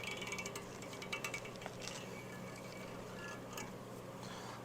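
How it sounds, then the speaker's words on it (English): Metal helicoil being unthreaded with pliers from a 1972 Harley-Davidson XLCH Ironhead engine case: a close, faint mechanical scraping and ratcheting with a few small metallic clinks, no talking. "But we are going to unthread this helicoil."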